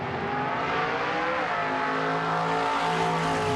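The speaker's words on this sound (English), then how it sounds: "But a car moving away from me sounds lower-pitched." A car driving away, its loud engine note sliding downward in pitch over a few seconds amid continuous road and tire noise, with no talking.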